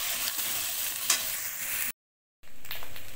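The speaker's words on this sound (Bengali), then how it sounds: "পেঁয়াজ বাটাটা একটু ভাজা হলে রসুন আদা বাটাটা দেবো," Onion paste sizzles steadily in hot mustard oil while a utensil stirs and scrapes through it, with a brief break in the sound and then more frying, close up and with no voices.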